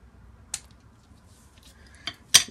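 Small scissors snip dried flower stems for handmade jewellery, giving three brief, sharp clicks spaced apart at close range, with quiet room tone between them.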